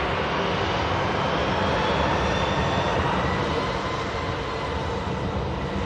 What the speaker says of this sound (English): So much noise here from this EasyJet. A320